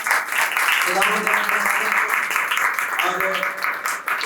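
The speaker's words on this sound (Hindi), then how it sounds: "आइए यीशु मसीह के लिए जोरदार तालियां।" A church congregation claps for Jesus Christ during a Sunday service, brisk applause mixed with cheering voices and a speaker talking over it throughout.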